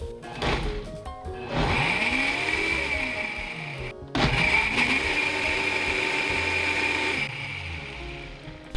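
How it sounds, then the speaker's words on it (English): A blender whirs loudly through two long runs, blending vegetable stock, tofu and maple syrup, with a short pause between bursts and pitch shifts as the load changes. "And now I'm going to go ahead and blend this up."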